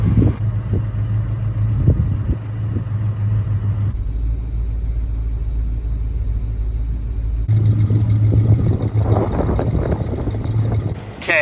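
A 1965 Chrysler 300L convertible with a 413 V8 and four-speed manual drives along, its engine rumbling steadily, dropping off briefly as gears are shifted, then pulling loudly again.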